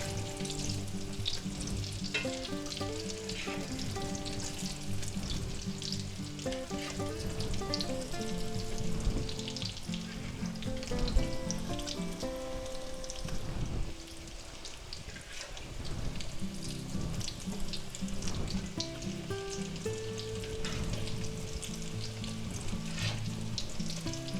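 Breaded eggplant slices fry in a pan with a loud, continuous sizzle and crackle throughout, with no talk, while music plays underneath.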